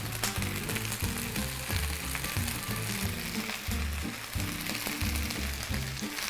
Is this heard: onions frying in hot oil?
yes